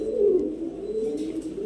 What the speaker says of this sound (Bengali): লাল মুসাল, লাল দম কবুতর।